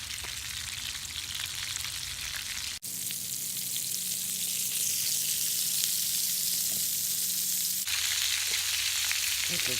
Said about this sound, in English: It's almost like frying,